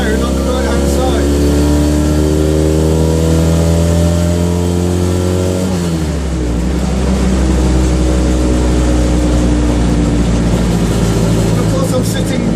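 A Citroen 2CV race car's small engine drones loudly from inside the cabin on a public road, its pitch climbing steadily through a gear, dropping at a shift, then rising again, with a voice talking over it.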